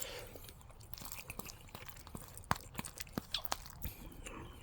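Close, quiet chewing of Kraft instant microwave macaroni and cheese, soft wet mouth sounds broken by a few sharp smacks and clicks.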